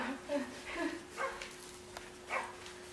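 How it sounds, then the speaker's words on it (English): A dog barks a few times at moderate distance, short yips spaced apart, alongside a faint steady electrical hum. "Look, there's a barking dog."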